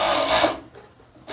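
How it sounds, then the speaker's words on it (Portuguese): Sewing machine stitching the side hem of fitness-wear shorts fabric, a brief fast buzzing run for about half a second that stops abruptly, followed by quiet. "vou posicionar ali a barra com a barra da lateral e vou fazer a costura"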